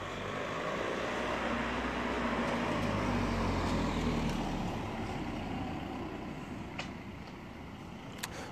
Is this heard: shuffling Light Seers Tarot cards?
no